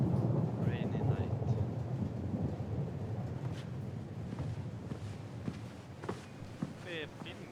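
A nighttime thunderstorm, with steady rain hissing and low thunder rumbling near the start, then a quieter rainy wash broken by scattered drips and taps.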